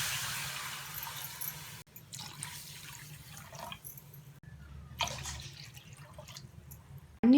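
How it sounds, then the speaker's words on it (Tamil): Three cups of water are poured from a measuring cup into a cooking pot in a home kitchen, splashing and trickling in short, uneven bursts with brief pauses, fairly quiet. "அதே கப்லேயே 3 கப் அளவு தண்ணி ஊற்றிக்கோங்க."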